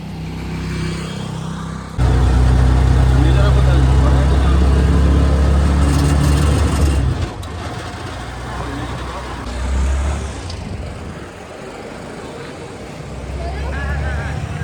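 Crowded auto-rickshaws in busy street traffic, a loud rumbling surge of engines passing close by for several seconds, then easing to a steadier traffic hum with a second swell, under intermittent talk.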